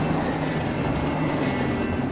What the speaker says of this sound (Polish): pociąg, trzeba zdążyć